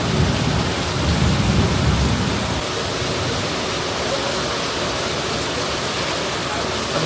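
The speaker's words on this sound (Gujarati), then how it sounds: "સંભળાય અલગ જ લેવલનો વરસાદ આવે છે અત્યારે" Heavy monsoon rain with thunder, a loud, dense, unbroken downpour roaring close by, with a deep low rumble during the first couple of seconds before settling into a steady hiss.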